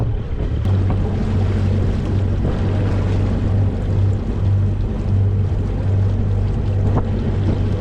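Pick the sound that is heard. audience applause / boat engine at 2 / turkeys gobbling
boat engine at 2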